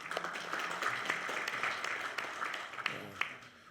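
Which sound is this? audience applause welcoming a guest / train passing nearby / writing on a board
audience applause welcoming a guest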